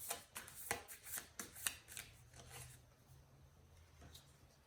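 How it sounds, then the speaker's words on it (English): Tarot cards are shuffled and pulled from a deck in a quick run of crisp, close flicks and snaps, then give way to a soft, quiet rustle. "I just want to kind of pull two more cards here."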